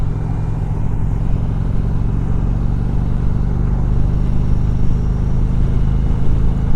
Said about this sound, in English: So this bike has no problem getting up and going.